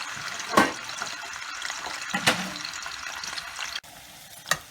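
Hot dogs fry in oil in a home kitchen, producing a continuous crackling sizzle with a few sharper pops and stirring clatters, close and moderately loud, with no speech.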